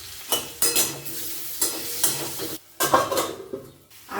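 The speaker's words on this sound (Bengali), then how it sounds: "আলুটা ভাজা হয়ে গেছে" Potato pieces seasoned with salt and turmeric fry in oil in a pan for a Bengali fish curry, with a close sizzle broken by several stirring scrapes and clinks of the utensil.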